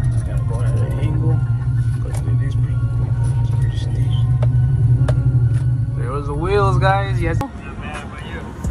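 A car rumbles steadily as it pulls slowly into a building lot, with a loud, continuous low engine and road drone close by and voices talking over it.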